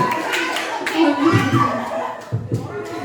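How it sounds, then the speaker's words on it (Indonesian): Teachers at a literacy education session in Central Lombok clap their hands in short, uneven bursts close by, with talking and light laughter mixed in. "tepuk tangan buat kita semua"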